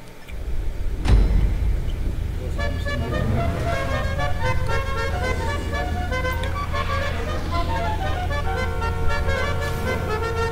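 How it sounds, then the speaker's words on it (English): A chaotic pile-up of car horns honking at once in GTA 5 during a street race, sustained and loud for about ten seconds over revving engine noise. "And that mess of horns playing there."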